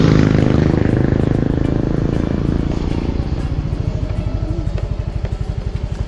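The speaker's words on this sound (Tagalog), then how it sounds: "sakay na nga tayo sa ating motor" A Honda Mio motor scooter rides along at close range, its small engine droning with a rapid pulsing beat that settles into a steady rhythm as it gets underway.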